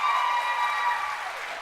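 Audience applause in the hall at a Texas Senate election debate, a steady burst of clapping that holds at full level for a moment and then begins to fade.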